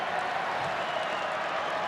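Dense, sustained roar and clapping of a large Australian rules football crowd rising after a goal, loud and even throughout with no break.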